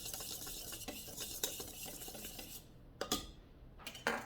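Baking soda, cinnamon and salt mixed together in a bowl for plantain muffins, a quiet close scraping stir with a few sharp clinks of a utensil against the bowl.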